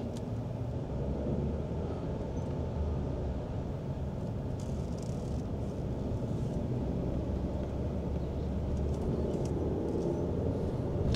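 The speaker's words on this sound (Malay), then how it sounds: "Nada enjin dia memang sangat sedap." Jetour Dashing SUV engine heard from inside the cabin while driving on a test drive in Malaysia, a steady low rumble and hum that stays even throughout with no voices.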